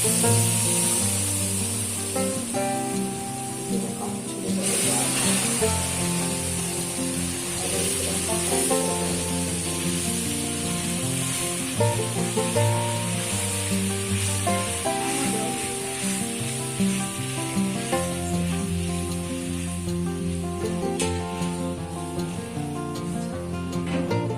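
Food sizzles steadily in a hot pan while it is stirred and mixed, a continuous loud hiss and spatter with faint scraping, and no voices over it.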